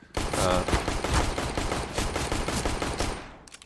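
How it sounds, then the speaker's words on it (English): Rapid pistol fire in CS:GO crackles in a dense, continuous run of sharp shots lasting a few seconds, loud and close. "some really bad pistol shooting from my side"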